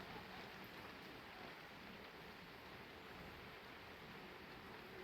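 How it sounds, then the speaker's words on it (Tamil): Heavy rain pours down steadily through the night in a village, a dense, even hiss of rainfall with no pauses and no voices. "மழை வந்து நைட்லேருந்து இருக்கு விடாமல் பெஞ்சிட்ருக்கு"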